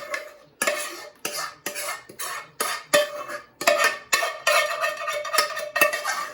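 A spoon scrapes and knocks the remaining sauce into a lasagna pan, about a dozen sharp, close scrapes and taps in a steady, uneven rhythm, with no talking.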